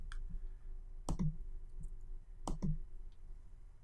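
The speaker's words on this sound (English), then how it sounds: "let's go ahead and eject our micro SD card" Two sharp, close clicks about a second and a half apart as a micro SD card is ejected, small and quiet with no talking.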